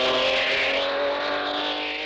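A race car accelerating hard after a downshift to third gear near a bridge, its engine pulling a loud, sustained rising roar close by.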